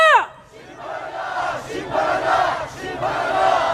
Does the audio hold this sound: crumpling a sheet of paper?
no